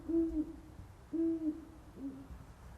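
An owl hoots at nightfall in Chailly-sur-Armançon, giving three low, hollow hoots spaced about a second apart, fairly close, the last one weaker, against a quiet background.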